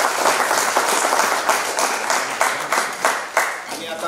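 Audience in an assembly hall breaking into applause, dense steady clapping with a few sharper swells, while a voice speaks over it.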